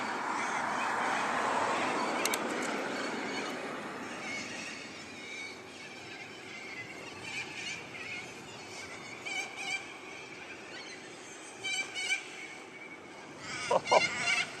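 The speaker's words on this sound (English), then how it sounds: "I can't hear anything right now other than the birds." Loud, raucous bird calls squawk and honk continuously, with sharper bursts growing more frequent toward the end; no talking.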